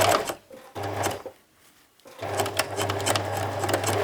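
A sewing machine back stitching on a small, flashy handbag runs in close, loud rapid bursts, stopping briefly twice before a longer steady run of stitching.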